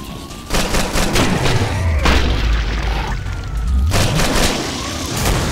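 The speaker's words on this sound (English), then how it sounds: "Oh, he's shooting again." Heavy booming gunfire and thumping blasts in the video game Killing Floor, loud and sustained with deep low rumbles throughout, a couple of strong impacts standing out.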